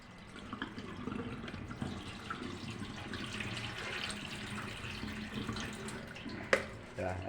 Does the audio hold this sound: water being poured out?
yes